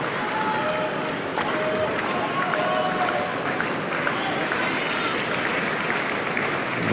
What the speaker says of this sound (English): Members of the crowd jump off their feet.